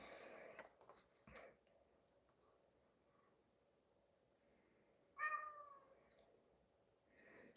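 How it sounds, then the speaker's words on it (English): A cat meows several times indoors, with a short early call near the start and a clear, louder drawn-out meow past the midpoint, over a quiet room background and faint clicks. "Meow. I already watched you eat, Trouble."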